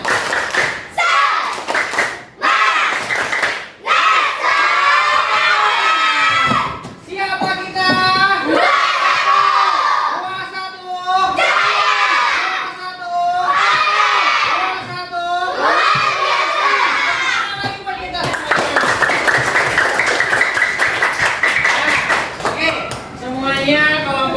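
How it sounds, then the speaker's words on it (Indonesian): Schoolchildren in a classroom loudly perform a rhythmic group clap chant, bursts of synchronized clapping alternating with shouted voices in a steady pattern, ending in a sustained burst of cheering. "Coba tepuk semangat."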